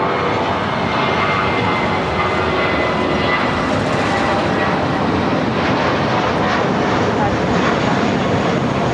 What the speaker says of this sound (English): This is Japan Airlines Flight 60 coming in from Osaka, 787-9 Dreamliner.